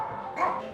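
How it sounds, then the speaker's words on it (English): A young puppy gives a single short, hoarse bark, close and moderately loud, with a rough, raspy tone. "That's her bark."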